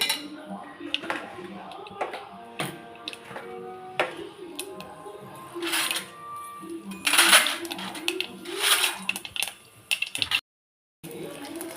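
Mustard seeds and fenugreek splutter in hot oil for a sardine curry, irregular bursts of sharp popping and crackling mixed with utensil clatter, while someone talks at times.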